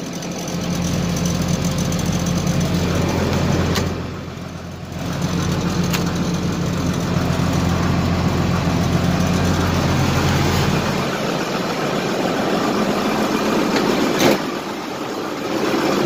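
A Ford F650 diesel truck engine cold-starts without glow plugs and settles into a loud, steady, knocking idle, close up, with a brief dip and a sharp transient near the end.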